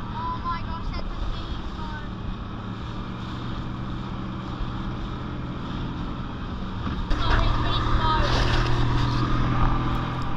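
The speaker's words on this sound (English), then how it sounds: "Motoring out to the dive site is always very exciting." A motorboat heads out to a spearfishing dive site off the Coromandel coast on a clear, calm day, its engine droning steadily with wind rush throughout, then louder and rougher near the end, with people talking over it.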